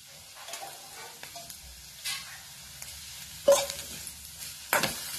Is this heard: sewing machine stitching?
no